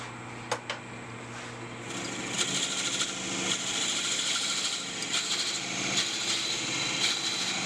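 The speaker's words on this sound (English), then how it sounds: "I use a 1-inch Forstner bit mounted in a drill chuck to drill a hole for the brush knot" A 1-inch Forstner bit in a drill chuck bores into a wood blank spinning on a lathe, giving a steady close grinding whir with a few sharp ticks near the start.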